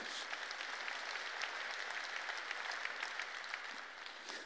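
A church congregation clapping together, a faint, dense and steady patter of many hands that continues evenly from start to finish without voices.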